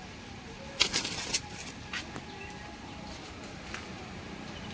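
Two pigeons scramble inside a cage, giving a few sharp bursts of flapping wings and scuffling, quiet and close, then mostly calm with faint movement.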